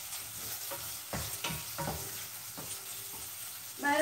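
Chopped onion hitting hot oil in a pot for pancit canton, a soft sizzle with a few stirring scrapes and clinks, fairly quiet and close, with a louder burst of frying near the end.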